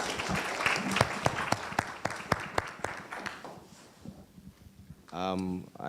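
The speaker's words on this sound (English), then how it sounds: "Please, a round of applause for the panel." Seminar audience applauds a business panel, with steady clapping under some background talk that fades out, followed by a speaker's voice at the end.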